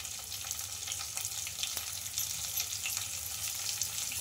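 Green chillies and asafoetida sizzle and fry in a pan of oil while preparing rice-flour goli idli, a steady close crackling hiss that runs without pause.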